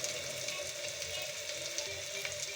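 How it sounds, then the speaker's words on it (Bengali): Dried fish fries in a pan with salt, ginger and garlic, a faint, even hiss of sizzling oil that runs steadily throughout with small crackling flickers. "সাথে লবণ, একটু আদা রসুন দিয়ে একটু ভেজে নেব।"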